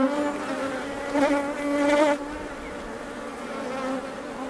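Honeybees, mostly drones, buzz on a hive frame, a close, steady harmonic drone that swells briefly in the middle before settling back to a continuous hum.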